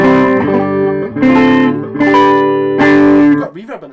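Electric guitar played clean and loud through a Peavey ValveKing VK112 valve combo amp with reverb, ringing out in sustained chords and notes that swell and decay one after another.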